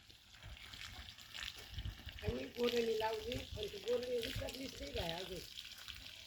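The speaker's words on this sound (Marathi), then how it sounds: "ती आता त्या मेथीला पाणी देते" Water poured onto young fenugreek plants in a farm field, a steady broadband splashing and gushing that runs throughout, with someone talking over the middle part.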